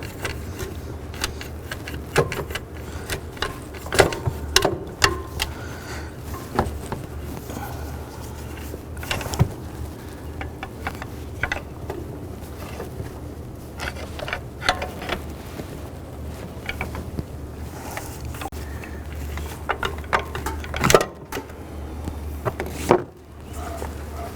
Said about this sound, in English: I'm just trying to work that alternator back and forth.